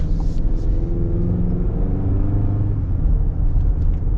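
2025 GMC Canyon Denali truck accelerating, a steady low engine rumble heard from inside the cab, continuous and moderately loud with no talk.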